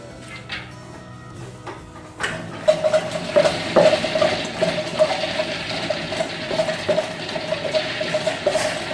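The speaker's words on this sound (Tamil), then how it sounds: "இப்போ கடலைப்பருப்பு போட்டு அரைச்சிக்கலாம்." A wet grinder grinding chana dal into vada batter starts up after a couple of seconds, then keeps a steady mechanical whir with rhythmic clicking and rattling, close by.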